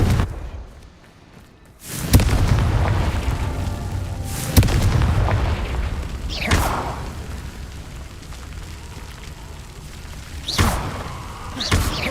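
A Confringo spell explosion in Hogwarts Legacy: several heavy booming blasts go off at intervals over a low rumbling game soundscape, with sharp bangs and whooshing bursts, loud and close, no talk.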